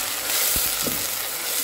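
Boneless chicken fillet pieces frying in oil in a pan, a continuous loud close sizzle with a couple of soft stirring bumps.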